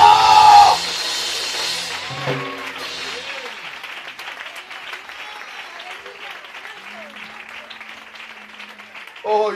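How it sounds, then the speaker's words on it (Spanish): An audience at a church service on the seven last words of Jesus on the cross bursts into loud applause and cheering, which fades to a steady, quieter crowd murmur with some voices talking. "Dale un aplauso."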